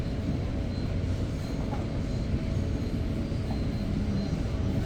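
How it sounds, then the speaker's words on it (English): An Exo commuter train rolls along the line near Lachine in Montreal at night, a steady, loud interior rumble of wheels and car noise with a faint hum throughout. "this is the last EXO train of the night on this line"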